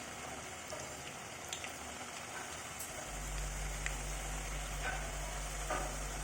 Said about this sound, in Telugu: ఇది డీప్ ఫ్రై చేసినప్పుడు మనం సిమ్లోపే చేసుకోవాలి